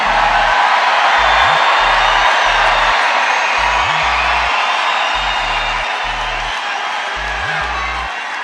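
A large political rally crowd cheers and whoops continuously, a loud sustained roar of many voices filling the whole stretch, with a low pulsing rhythmic pattern beneath it.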